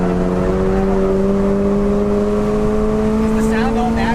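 A 2022 Toyota GR86 engine revs hard on a hot lap around a track, a loud, steady, slowly climbing drone heard from inside the car with constant road and wind roar.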